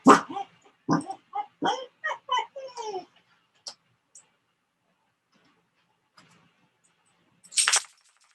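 A dog gives a rapid run of sharp, close barks for a few seconds, then goes quiet apart from faint ticks, followed by one last short burst.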